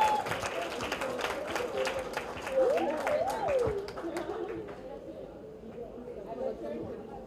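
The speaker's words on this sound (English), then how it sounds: "Can we have a round of applause once again?" A round of applause at a book event for author Namrata Purohit, scattered clapping and crowd chatter with talking over it, fading toward the end.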